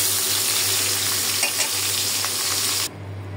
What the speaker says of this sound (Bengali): আমি এখন মাছটা একটু ভেজে নিচ্ছি